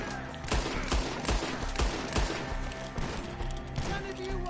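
Rapid volleys of gunfire in a Red Dead Redemption 2 shootout, sharp cracks and bursts repeating every half second or so over a dense game score, with distant shouting mixed in.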